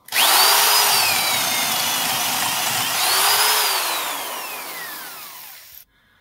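A power drill drives a spade bit into wood, loud and close, its motor whine rising as the bit bites, then sagging and rising again before cutting off abruptly.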